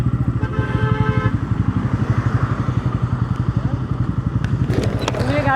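A small motorcycle's engine runs steadily and close by while stopped at the Khan Jahan Ali bridge toll. The putter is rhythmic and continuous, and a brief horn or whistle sounds near the end.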